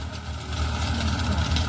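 A tractor engine drones steadily close by in a farm field, a low continuous rumble with no pauses, loud and unbroken throughout.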